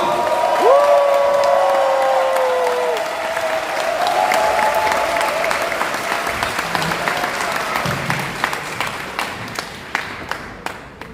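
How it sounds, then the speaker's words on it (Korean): A Democratic Party lecture crowd in a wedding hall at Asan Terminal applauds loudly to welcome senior adviser Lee Hae-chan, with whoops and cheers early on. The clapping gradually thins to scattered, isolated claps. "이해찬, 민주당의 승리의 상징 이해찬 상임 고문님을 박수로 모시겠습니다."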